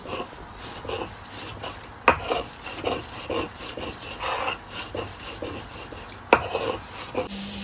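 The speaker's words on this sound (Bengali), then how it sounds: "আমি এখানে সর্ষে বেটে নিচ্ছি" Mustard seeds and salt are ground on a grinding stone with a soft, repeated rubbing and scraping rhythm, fairly quiet and close, with a couple of sharper knocks of stone on stone.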